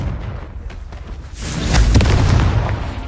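A Confringo blasting spell explodes in Hogwarts Legacy, the booming burst building after a quieter opening and holding a loud, broad rumble through the second half.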